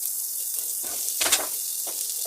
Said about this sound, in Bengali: তেলটা যখন গরম হয়ে গেল, আমি প্রথমে পেঁয়াজ কুচিগুলো দিয়ে দিলাম।